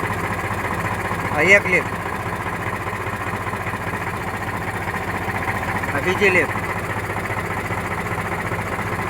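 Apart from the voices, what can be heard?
Eicher 368 tractor engine idling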